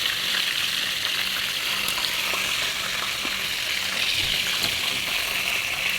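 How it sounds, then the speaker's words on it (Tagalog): Running water, likely from a kitchen tap, pours in a steady, continuous broadband hiss while cooking biryani, with garlic and onion being prepared nearby; no talk is heard over the even flow. "Tubig."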